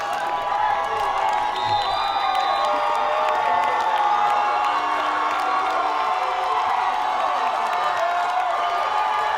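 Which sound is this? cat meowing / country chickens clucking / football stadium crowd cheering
football stadium crowd cheering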